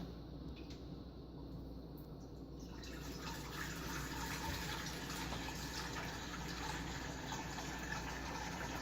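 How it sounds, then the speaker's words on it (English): Tap water runs into a pasta pot on a kitchen counter as a steady, fairly quiet gushing stream that thickens and grows fuller partway through. "We're going to want to fill this baby up halfway with water"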